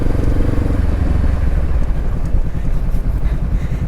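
Honda CB500X motorcycle riding off-road, its engine thrumming close and steady with a pulsing low rumble and rough, uneven texture throughout a short stretch.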